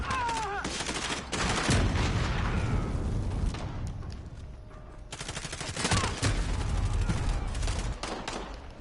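Gunfire from Call of Duty Modern Warfare using Season 3 DLC weapons comes in dense, loud bursts of rapid shots, with a brief lull in the middle before another burst. A few game sounds are mixed in with the shots.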